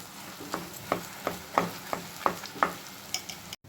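A ground roasted gram mix cooking in ghee in a pan, a soft low sizzle broken by a regular series of spoon scrapes and taps, roughly two per second, close and fairly quiet.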